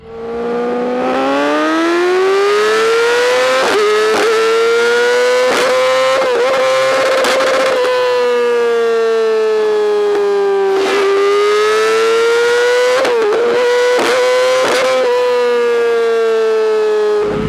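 A 2020 Yamaha R6 sport motorcycle screams up through the revs from a launch, its high engine whine climbing and dropping with a few quick gear shifts, loud and close throughout.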